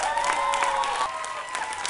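An audience applauds a guitarist at a Christmas-season fan gathering, brief lively clapping with some light cheering mixed with a sustained musical tone underneath.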